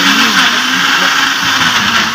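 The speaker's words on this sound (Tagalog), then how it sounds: "I-blender natin siya hanggang sa ito ay maging tino." Electric blender whirring at high speed, blending orange cake batter with sugar, a loud continuous close-up motor whine with no pauses.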